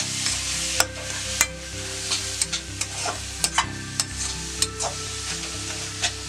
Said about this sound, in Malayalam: തക്കാളി നമുക്കിതിലേക്ക് ഇടാം. അത് നന്നായിട്ടൊന്ന് മിക്സ് ചെയ്ത് കൊടുക്കാം.